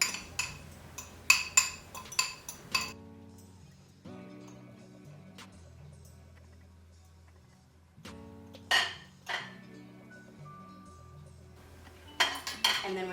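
Mushrooms and onions drop into a pan for a one-pan breakfast, giving close bursts of clinking and scraping, then a quieter stretch before more clatter.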